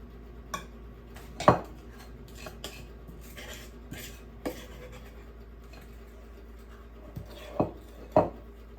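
Banana nut bread batter is scooped into baking pans, giving scattered clinks and scrapes of utensils against pans. Several sharper knocks come over a quiet kitchen background.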